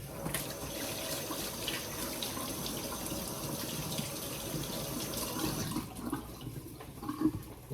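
Hands being washed under a running kitchen tap after dry-rubbing venison ribs, a steady rush of water with small splashes and shifts, close and continuous throughout.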